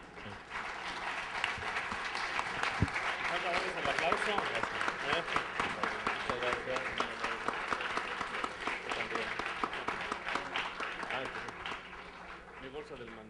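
Audience applause after a lecture at a science-and-faith conference session: a sustained wash of clapping that swells, holds steady and then gradually thins out.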